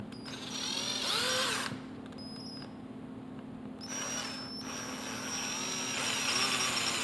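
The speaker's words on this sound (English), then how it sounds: "We will drill a small pilot hole so that our hole saws don't wander." A power drill whines steadily while boring a small pilot hole, rising and dipping in pitch as it bores, running continuously at moderate volume.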